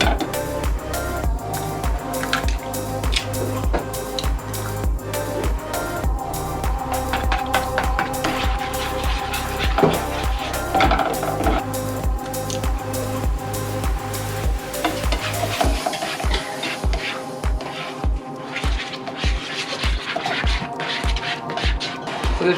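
Gordon Ramsay-style scrambled eggs stirred briskly in a pan, a rapid, steady scraping rhythm over a continuous soft sizzle, close and fairly loud, the sizzle thinning near the end while the fast stirring strokes continue.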